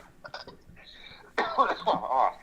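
A short burst of harsh coughing from a man, coming after a quieter stretch with faint voice sounds and background noise.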